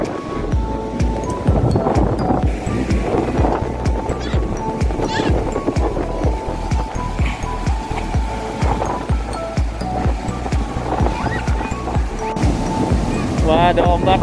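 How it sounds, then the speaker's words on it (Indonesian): Surf rolling onto the sand at Parangtritis beach in Yogyakarta, a steady wash of ocean waves with wind buffeting the microphone, while people chat and call out over it throughout. "Wah, ada ombaknya guys tuh."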